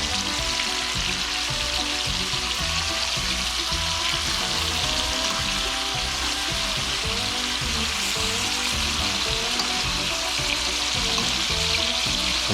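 Freshly caught Michigan trout fries in a pan alongside ramps and fiddleheads, giving a loud, steady sizzle that crackles continuously throughout with no voices.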